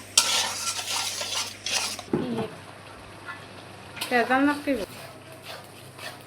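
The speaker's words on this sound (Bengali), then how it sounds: "মশলাগুলো ভালোভাবে কষিয়ে নিচ্ছি" Meat frying in oil with onion, garlic and ginger paste, stirred with a utensil scraping the pan; a sizzle runs under the scraping, and a brief dog bark or voice cuts in near the end.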